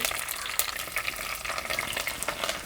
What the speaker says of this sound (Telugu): నూనె వేడెక్కిన తర్వాత అర చెంచా ఆవాలు అర చెంచా జీలకర్ర వేసేసుకుందాం వెంటనే కాస్త కరివేపాకు